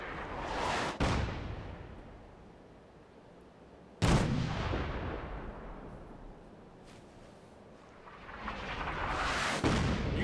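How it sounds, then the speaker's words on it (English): Artillery rounds crash down in Fallout 4, with two heavy booms, one at the start and a louder one a few seconds later, each trailing off into rumbling roar before a rising swell near the end. "artillery rounds falling, too"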